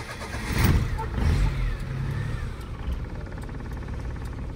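A 1999 Suzuki Khyber running on gas starts up with a short cranking burst, then the engine catches and settles into a steady, fairly close idle; a voice speaks briefly during the start.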